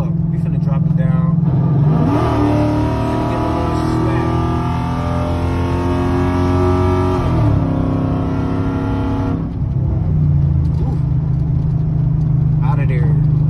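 A car engine, close and loud, revs through shifts with dips around each gear change before climbing again, heard from inside the cabin.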